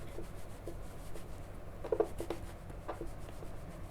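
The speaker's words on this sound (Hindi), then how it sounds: "क्वेश्चन लिख रहे हैं" A pen scratches across paper while a maths question is written out, soft, close scraping strokes in short bursts, fairly quiet with no talking.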